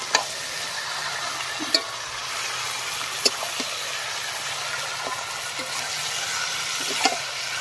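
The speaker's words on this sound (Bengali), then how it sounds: "এবার মাংসটাকে ভালো করে মশলার সাথে মিশিয়ে নেব।" Chicken pieces are stirred into spice masala and fried in a pan, a continuous sizzle broken by occasional sharp scrapes and knocks of the spoon against the pan, close and steady.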